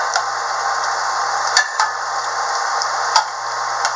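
Yeast doughnuts fry in hot oil with a constant close, bright sizzle, broken by a few sharp ticks and light clicks from handling.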